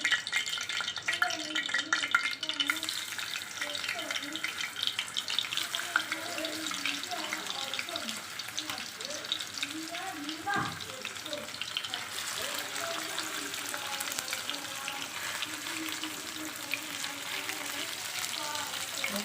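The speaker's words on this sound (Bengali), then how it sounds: "মাছগুলো একটু ভেজে নেই।" Fish frying in a pan with a steady crackling sizzle, continuous throughout, with a brief knock partway and some faint background voices.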